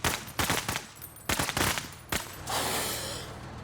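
Rifle shots from the video game Menace crack out in quick, loud bursts: several sharp reports cluster together, then a final shot rings into a fading, noisy tail.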